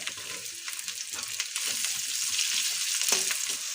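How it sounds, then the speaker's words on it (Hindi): Onions frying lightly over a high flame for veg paneer chowmein, an even hiss of hot oil that grows slightly denser toward the end, with a single utensil tap and no talk. "तो प्याज को भी मैं हल्की सी ही फ्राई करूँगी"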